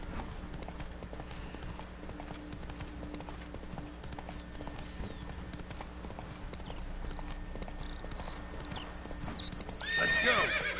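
A horse gallops in The Witcher 3 video game, with rapid, continuous hoofbeats clip-clopping at close range, a whinny breaking in near the end.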